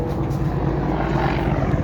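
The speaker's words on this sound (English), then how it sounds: "It's the Apache." An Apache military helicopter passes overhead near an Army Air Corps base, a steady, loud rotor and engine rumble that holds throughout.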